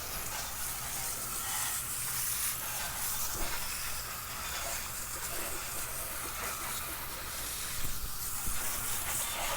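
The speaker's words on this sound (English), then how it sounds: "I'm going to spray the wheels down to get all the loose brake dust" Brake dust cleaner sprays onto car wheels as a steady, broad hiss that continues with small swells, close and uninterrupted, with no talking.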